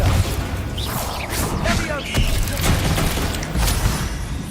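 In Hogwarts Legacy, a Bombarda blasting spell erupts as a loud, dense roar of crashing debris that lasts the whole stretch. A sharper burst comes near the middle, and the noise stays thick and chaotic throughout.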